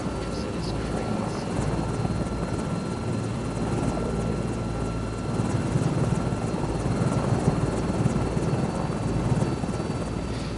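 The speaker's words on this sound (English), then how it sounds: "This is not like other helicopters, it is crazy." A helicopter engine in the Microsoft Flight Simulator 2024 video game drones steadily and loudly throughout, a dense, continuous rotor and turbine roar with no pauses.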